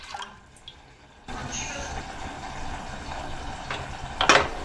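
A glass of water poured into a kadhai on a gas stove while making salted peanuts; a steady splashing, bubbling pour begins abruptly after a quieter moment and continues close by, with a brief louder clink near the end.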